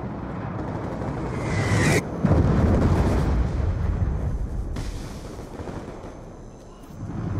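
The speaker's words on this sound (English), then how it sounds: "Hellstorm missile inbound." Hellstorm missile strike in Call of Duty Black Ops 2 multiplayer, a loud rumbling blast with a sharp burst near two seconds, then a sustained roaring explosion and another impact partway through, fading slightly before swelling again.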